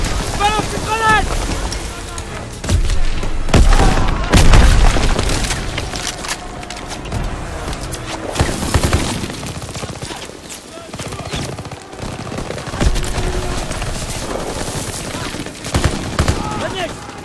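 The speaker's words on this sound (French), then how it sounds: "C'est des fusils des grenades!" Rifle fire and grenade blasts in the Call of Duty WWII video game, a loud chaotic battle with rapid shots and heavy booming bursts amid wind-like rumble, while voices shout over it.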